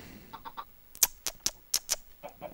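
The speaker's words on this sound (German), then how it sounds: "ich habe hier die Hühnerfarm" Minecraft chickens on a chicken farm give a scattering of short, soft clucks, broken by several sharp, bright clicks in a loose, irregular rhythm, with no talking.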